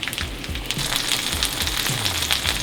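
A vegan salmon fillet sizzles steadily in a hot pan, a continuous close crackle of frying with small bursts of spatter and no talk.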